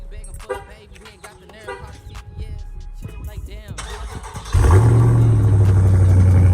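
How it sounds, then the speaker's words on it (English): A car cold-starts after a stretch of quieter speech, the engine catching abruptly and settling into a loud, steady, close-up rumble with a raised idle. "So I'm gonna go ahead and give y'all a little cold start."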